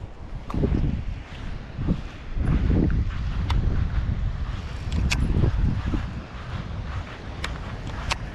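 Gusty wind rumbles steadily across the microphone beside a pond during bass fishing, a loud, continuous low roar with a few faint clicks on top and no talking.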